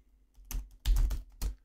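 Computer keyboard typing a server shutdown command into a WoW AzerothCore server console, a few close, distinct key clacks in small clusters with near-silence between them.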